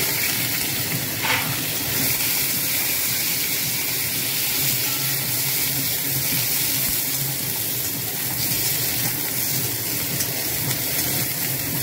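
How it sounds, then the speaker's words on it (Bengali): Potatoes, beans and pumpkin stems fry in hot oil in a pan, giving a loud, steady sizzle with crackling that holds for the whole stretch, with no talk. "সবজি আছে আলু, বিনস আর কুমড়ো ডাঁটা। এগুলো লাল লাল করে"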